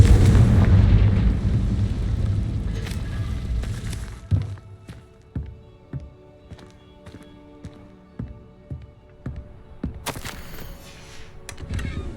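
A Confringo spell explosion in Hogwarts Legacy opens with a loud, rumbling blast that slowly decays, followed by scattered sharp impacts and thuds, then another burst near the end.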